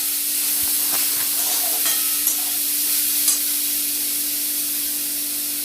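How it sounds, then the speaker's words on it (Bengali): Mulboti mixture being stirred in a pan, a steady frying hiss throughout with a few faint scrapes of the spoon and no voices. "এবার এটাকে একটু নাড়াচাড়া করতে হবে।"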